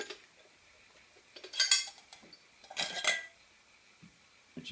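Metal parts of an Esbit coffee maker stove being handled, giving two short clusters of bright metallic clinks and rattles separated by quiet, close and moderately loud.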